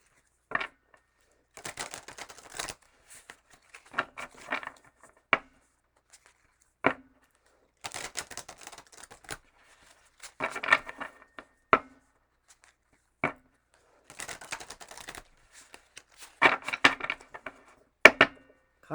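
Tarot cards being shuffled by hand in short bursts of riffling and tapping, each burst followed by a quiet pause, close and fairly soft, with no talking.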